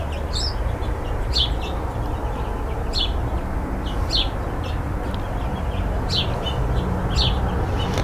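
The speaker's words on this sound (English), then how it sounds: "I hear a little bird" A small bird tweets from a cypress tree, giving short, high chirps at irregular intervals over a steady outdoor background hiss.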